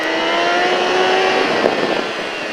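Motorcycle accelerating out of a corner on a race track during a riding-school session at Alès, a steady engine note rising in pitch as the throttle opens, loud and close with no talk.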